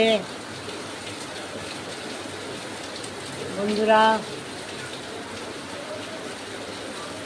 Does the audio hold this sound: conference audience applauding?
no